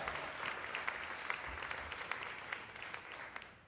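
An audience at a family event in Houston gives a round of applause, a faint, distant patter of many hands clapping that fades out at the end.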